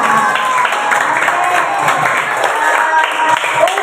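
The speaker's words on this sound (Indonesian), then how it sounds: "Oke, berikan aplaus dulu buat teman-teman." Students in a classroom clap together in a brief, lively round of applause, fairly close and continuous, with some voices mixed in.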